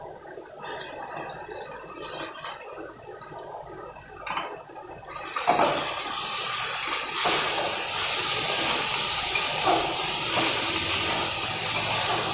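Banana stem added to frying potatoes in a pan hits the oil with a sudden loud, steady sizzle after a quiet start, a broad hiss that holds on close by.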